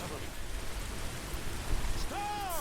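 Steady rain hisses over low rumbling thunder during a storm in Modern Warfare 2, with a brief rising electronic tone near the end.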